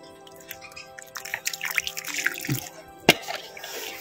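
Water poured into a freshly repotted chrysanthemum pot, trickling and splashing steadily as it drains through the soil, with a brief sharp knock near the end.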